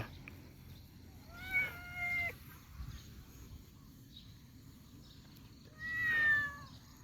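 Cat meowing outdoors in misty countryside while cattle are being tended, two clear close meows, the first a short double call and the second longer, over quiet low rumbling background.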